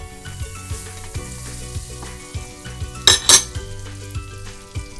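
A tablespoon of butter melts and sizzles in a hot pan for white sauce, a steady fry hiss under repeated metal utensil scrapes and clinks, with a brief sharper crackling burst partway through.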